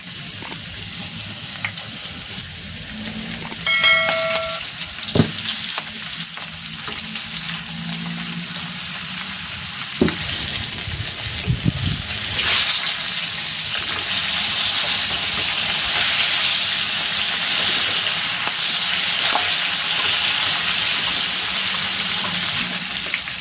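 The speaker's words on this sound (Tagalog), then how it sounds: "I-dredge ko muna ito dito sa flour para hindi tumalsik habang piniprito" Flour-dredged milkfish (bangus) fries in hot oil, giving a steady, close crackling sizzle with a brief tonal chime early on and clattering bumps of utensils, no talking.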